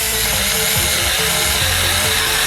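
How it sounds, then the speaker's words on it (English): Power jigsaw cutting through scrap wood, a loud, continuous buzzing whine with a steady reciprocating rattle that holds unbroken throughout. "now we're going to cut it with the jigsaw"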